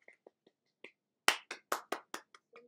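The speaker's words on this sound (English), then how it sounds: "Round of applause." A short burst of clapping from a few hands, after a handful of soft taps come about six sharp, loud claps in quick succession, close by and otherwise quiet.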